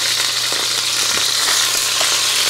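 Pot roast searing in a pot over medium heat gives a loud, dense, steady sizzle and crackle that runs unbroken throughout, with no voices.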